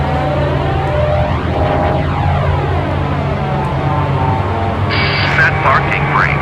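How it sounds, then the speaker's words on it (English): A simulated airliner engine spools up inside the cockpit in Microsoft Flight Simulator X at East Midlands airport, a loud steady broadband roar with low hum that holds throughout, a brief higher whine entering near the end. "that's the rude sound of another plane starting up"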